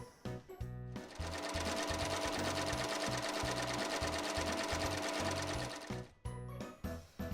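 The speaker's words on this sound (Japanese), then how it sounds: "今回は重機の職業用ミシン SL700EX を使用します。" A JUKI SL700EX professional sewing machine with a size 11 needle stitches cotton fabric continuously for about five seconds, a loud, fast, even mechanical rattle that starts and stops with short bursts on either side.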